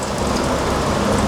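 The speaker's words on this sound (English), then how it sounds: "It's raining." Loud, steady rain hisses without a break, a dense wash of drops close by.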